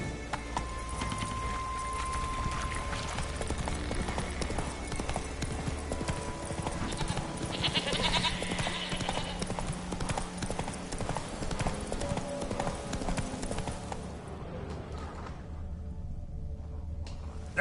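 Roach, Geralt's horse in The Witcher 3, gallops with steady rapid hoofbeats across open ground, set against a continuous game soundscape of music and ambience that thins out near the end.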